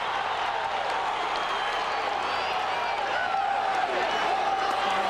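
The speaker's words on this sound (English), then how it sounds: "The Iowa fans in the crowd going crazy because Nate Carr can't do anything down there." Iowa fans in the crowd at a 158-pound college wrestling bout between Nate Carr and Zalesky cheering wildly, a dense, steady roar of voices and applause that holds for the whole stretch without a break.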